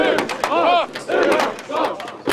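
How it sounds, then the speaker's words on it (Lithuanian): A noisy, aggressive crowd shouts and roars at a line of riot shields, with loud overlapping yells rising and falling in waves close by. "Akistata su triukšminga ir agresyvia minia turi savų ypatumų."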